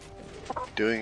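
Chickens from a spawner in the Minecraft video game give a short burst of clucking, with a brief low cluck followed by a louder squawk near the end.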